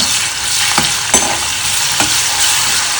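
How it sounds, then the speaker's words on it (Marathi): Crushed garlic and ginger frying in hot oil for a Bombay duck curry, a loud, close, unbroken sizzle with a few soft stirring scrapes and no voices. "आता मी दोन पाळ्या तेल घेतलेलं आहे आणि ते गरम झालं आहे त्याच्यामध्ये मी ठेचलेलं लसूण अद्रक"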